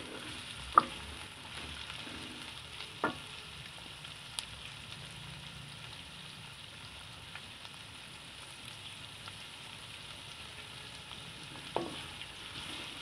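Onions for bhindi masala fry quietly in a pan, a soft steady sizzle broken by a few sharp clinks and scrapes as they are stirred.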